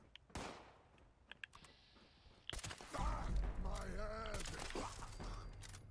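Hunting rifle shots in Fallout 76, a few sharp cracks early on followed by a louder burst of overlapping game noise, with someone talking over it.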